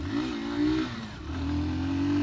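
A Hero Super Splendor Xtec 2.0 125cc motorcycle pulls away in first gear, its engine note rising, dipping briefly, then climbing again in a steady, close drone.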